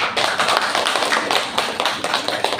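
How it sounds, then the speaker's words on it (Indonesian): Classroom applause for a student, a steady patter of many hands clapping close by with no talk over it. "Boleh tepuk tangan dulu buat Dela."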